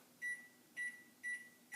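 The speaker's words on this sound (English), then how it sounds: "we're going to pop this into the microwave" A microwave oven hums quietly as it heats a dip, with three short, sharp electronic beeps sounding at even intervals over the low drone.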